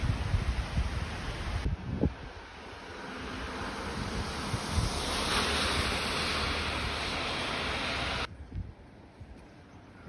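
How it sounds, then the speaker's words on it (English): Rivers cascade after heavy rain, a steady broadband rush of water mixed with wind buffeting the microphone, with a few brief knocks and thuds near the start. "Rivers cascading everywhere,"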